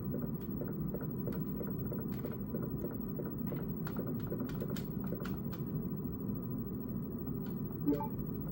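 Faint, sparse typewriter clacks from a Resident Evil video game, scattered irregular keystrokes over a steady low hum of background ambience.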